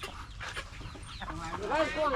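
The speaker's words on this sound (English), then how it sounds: "It's happy duck." Fowl call in a busy outdoor spot in Phnom Penh, a low chattering cluck rising into a few nasal, quacking cries near the end, with voices and background noise around them.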